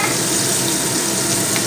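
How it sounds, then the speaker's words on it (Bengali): Chopped onions fry in hot oil for a homestyle cauliflower dish, a loud, dense, continuous sizzle heard up close with no pauses. "ওই তেলের মধ্যে আমি কেটে রাখা পেঁয়াজ যেটুকু রেখেছিলাম দিয়ে দিলাম।"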